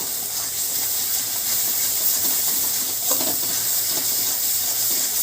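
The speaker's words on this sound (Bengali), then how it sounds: "চিনিটা দিয়ে ভালো করে আমি কষিয়ে নিব।" Spice paste with sugar sizzles in a pan for chana masala, a continuous close hiss of frying with faint stirring noises, steady throughout with no voices.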